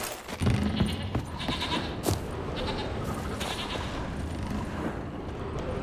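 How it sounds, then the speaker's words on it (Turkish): Goats bleating like lambs in the Witcher 3: Wild Hunt video game, several overlapping bleats over a steady, busy game ambience. "Bak keçi. Ama kuzu gibi meğliyorlar."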